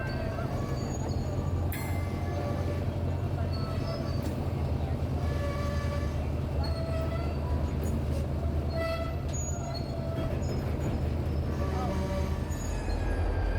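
A freight train hauling rock loads shoves backwards onto the Parish Spur, giving a steady, loud rumble of rolling cars with occasional high wheel squeals throughout.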